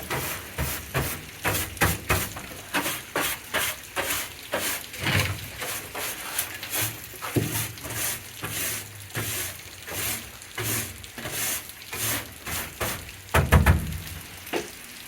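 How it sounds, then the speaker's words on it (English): A broom sweeps out the trunk of a 1962 Comet, with close, brisk scraping strokes repeating in a steady rhythm and a slightly heavier scrape near the end. "Okay, let's sweep this out."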